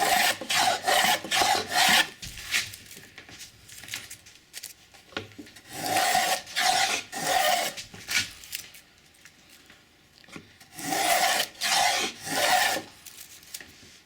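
A hand plane takes heavy, tearing passes along a pine board, rasping in three bursts of rapid strokes separated by quieter pauses, close and loud.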